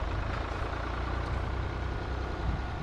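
A 1952 White truck's engine runs steadily at close range while towing a tractor, a continuous low idling rumble with no pauses and no talk.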